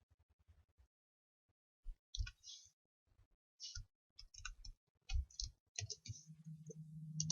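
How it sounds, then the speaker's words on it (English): Computer mouse clicks while setting up a form control in a spreadsheet, a scattered series of short sharp taps close by, some bunched in quick pairs, with a low hum rising near the end. "So click on a form control and place it here."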